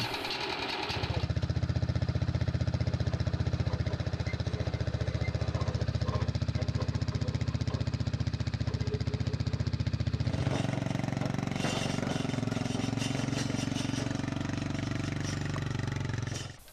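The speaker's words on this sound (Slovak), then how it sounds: "kladivková kosačka Savanach Professional, ktorá je poháňaná vlastným motorom" Savanach Professional flail mower driven by its own engine, hitched behind a UTV, starting up and running at a loud, steady chugging drone that shifts to a rougher, busier tone partway through.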